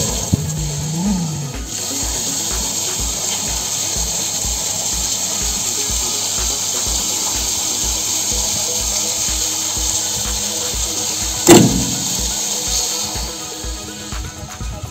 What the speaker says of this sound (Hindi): तो ये जो मोटर है वो शुरू हो चुकी है, इस तरह से पानी पूरा आएगा ये।